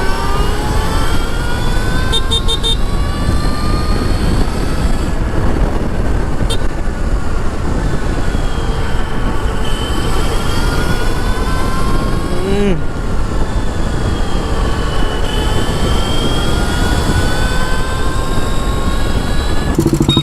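An Ultraviolette F77 Mach 2 electric motorcycle accelerates with a thin, rising electric motor whine whose pitch climbs and resets over heavy, constant wind rush, loud and continuous.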